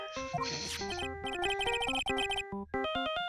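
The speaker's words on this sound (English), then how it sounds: "This fucking ringtone!" Phone ringtone in Phoenix Wright: Justice for All video game, a bright, electronic melodic jingle of stepped tones repeating in quick phrases, loud and alone with a brief break near the end.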